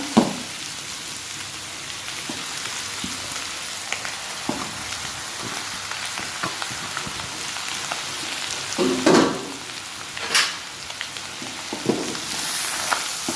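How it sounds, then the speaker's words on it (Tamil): Cooked rice stirred gently in a hot frying pan for egg fried rice, a continuous close sizzle broken by occasional soft scrapes and taps of the spoon. "கொஞ்சம் மெதுவாக கிளறி விடணும்"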